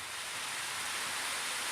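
Steady, dense hiss of heavy rain falling, even and unbroken throughout, fairly faint with no voices.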